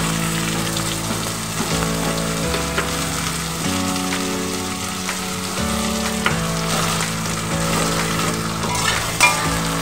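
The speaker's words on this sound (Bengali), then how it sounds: "এবার দিয়ে দেব কুচো করে কেটে রাখা পেঁয়াজ," Chopped onions sizzle and fry steadily in a pan for a mutton curry, a loud continuous crackle with occasional stirring scrapes and no talking.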